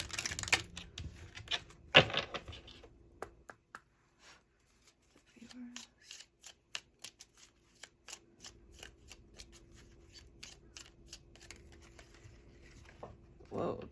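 A deck of oracle cards being shuffled up close: quick flurries of riffling and flicking card sounds, then a quieter stretch of soft, irregular taps and slides, ending with another burst of handling.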